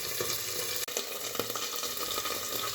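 Potatoes fry in a pan with a steady broadband sizzle while being stirred, with scraping strokes near 0.2, 1.0 and 1.4 seconds; close and continuous, with no talk.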